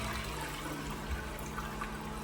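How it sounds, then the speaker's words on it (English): Toilet flushing with the tank lid removed, a weak flush on a toilet with flushing problems: a steady, moderately loud rush and trickle of water running throughout, with no talking. "We're gonna take a look and see how much water goes down when I flush."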